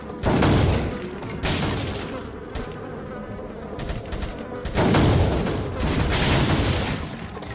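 Rapid bursts of gunfire in Resident Evil 4, loud and sustained, coming in several volleys with brief pauses between them.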